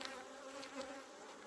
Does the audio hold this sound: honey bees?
yes